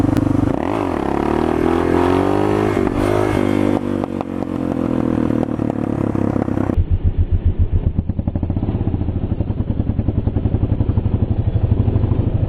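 Suzuki DR650 motorcycle engine revving hard near and loud as the rider accelerates from about 20 mph into a wheelie, a rising roar that shifts into a steady pulsing, throbbing drone.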